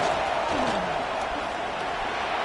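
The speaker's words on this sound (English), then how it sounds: "And here comes the noise. This crowd is trying to inspire this defense to make a big red zone stop." Stadium crowd roar in an NCAA college football video game, swelling as the home fans try to rally the defense for a red zone stop; a steady, dense wash of cheering throughout, with commentary voices faintly mixed in.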